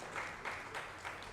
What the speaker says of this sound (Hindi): तो ताली ज़रूर बजाइए इनके लिए।